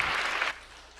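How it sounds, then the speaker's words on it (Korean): Church congregation applauding during a Thanksgiving Sunday morning worship service, a short loud burst of many hands that cuts off abruptly after about half a second, leaving quiet room tone. "우리 하나님 앞에 영광의 박수 한번 올려드리겠습니다."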